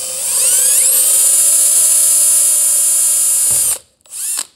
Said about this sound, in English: this is an eighth drill bit, eighth inch